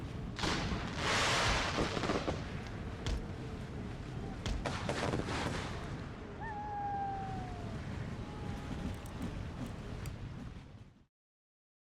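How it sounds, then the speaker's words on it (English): Cannon and howitzer fire in the strategy game Empire: Total War, with a couple of booming shots early, more distant thuds and whistling projectiles over a wind-like battlefield bed, no talk. "They almost got one of my howitzers with those bouncing cannonballs from that ordnance rifle."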